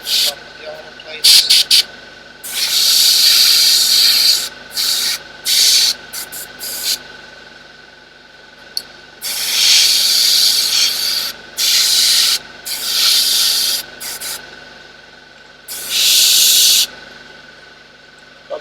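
An airbrush sprays black paint onto miniature armour in repeated bursts of close, bright hiss, some short and some several seconds long, separated by quiet gaps over a faint steady hum.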